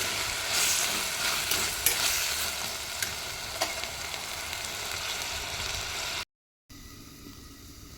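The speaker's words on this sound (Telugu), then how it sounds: "వంకాయ ముక్కలు, ఆనియన్స్, మిర్చి, అల్లం పేస్ట్ ఇవంతా బాగా ఫ్రై అయిపోతాయి అన్నమాట" Brinjal pieces, onions, chillies and ginger paste frying in oil make a dense, loud hiss and sizzle that runs steadily, then breaks off briefly near the end before a quieter stretch.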